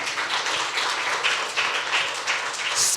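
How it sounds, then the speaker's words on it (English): A conference audience applauds two speakers, a steady wash of many hands clapping close by, evenly sustained for a few seconds without voices. "Let's give these two gentlemen a round of applause."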